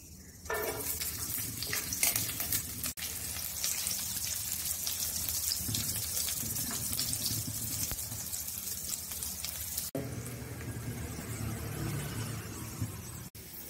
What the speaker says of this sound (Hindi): अभी हम लोग तेल में ये जो खड़े मसाले हैं ये फ्राई कर लेंगे।